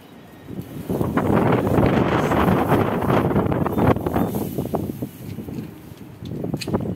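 Strong gusts of wind buffet the microphone with loud, roaring rumble that rises and falls, no voices heard.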